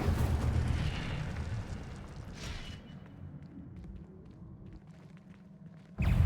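In a Harry Potter video game, the Incendio fire spell is cast in the Gryffindor map room. It lands as a loud roaring burst that slowly fades away, and then a second sharp blast cuts in at the very end.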